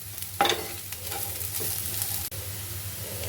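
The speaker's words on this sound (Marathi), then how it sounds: "आणि चांगलं परतायचं आहे." Bitter gourd being stir-fried in a pan, with a steady close sizzle and occasional scraping and stirring clatter of a spatula throughout, no talking.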